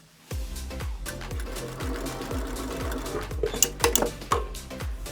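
A sewing machine stitching down the ends of MOLLE straps, running in a steady rapid rhythmic chatter up close, with a few sharper clicks and knocks toward the end.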